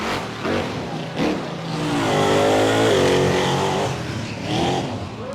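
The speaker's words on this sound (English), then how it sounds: "This is a 572 blown and alcohol injected big block Ford motor." A blown, alcohol-injected 572 big block Ford truck engine revs up hard and holds a roaring, rising pitch before dropping back, loud and close with a rough, throaty edge.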